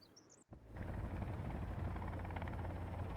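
Steady, loud broadband engine drone inside an aircraft in the survival game Sons of the Forest, starting after a brief near-silent gap and holding constant with a deep low rumble, no voices present.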